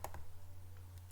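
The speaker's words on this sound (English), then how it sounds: "I am going to double click now." Computer mouse double click, two quick faint clicks close together right at the start, followed by a steady low hum and a few soft ticks.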